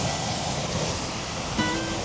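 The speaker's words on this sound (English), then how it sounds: "Hard to believe that that's all the water that there is making that big waterfall" A big waterfall at a ghost town makes a constant rushing roar of falling water, steady and fairly loud throughout, with a brief faint tone near the end.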